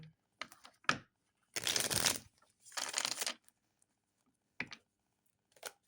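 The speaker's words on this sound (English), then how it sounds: "Let me shuffle." Tarot cards being shuffled by hand in short bursts of riffling and rustling, several separate passes with quiet pauses between, close and clear with no talking.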